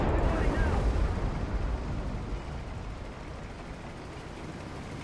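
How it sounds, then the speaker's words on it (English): Heavy artillery fire rumbles through a war film battle, opening with a loud deep blast that decays into sustained, dense low rumbling and debris noise. "I think that heavy artillery's got to stop"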